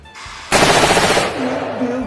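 Burst of rifle gunfire from army recruits at a shooting drill, a sudden loud rapid volley cutting in after a quiet start and rattling on, then fading into a lingering ringing tone.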